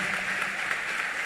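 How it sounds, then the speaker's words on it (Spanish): Audience applause at a public talk in Mexico on political violence against women, a sustained broad patter of many hands clapping at steady volume throughout, without speech. "debemos de darle un fuertísimo aplauso"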